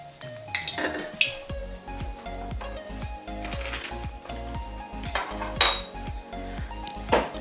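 Fried paneer bread pakoras are moved into a separate dish, with metal utensils clinking and scraping against pots and plates in a quick, irregular series of close, bright taps.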